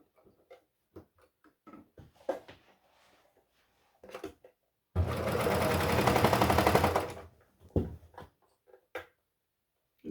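A serger whirs through dress fabric in one loud, steady burst of about two seconds, surrounded by quieter clicks and fabric handling before and after.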